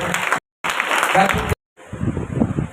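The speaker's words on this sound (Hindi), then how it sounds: "जोर से ताली दें।" An audience at a church gathering claps in steady, dense applause in two loud bursts separated by brief gaps, followed by a softer stretch of scattered clapping.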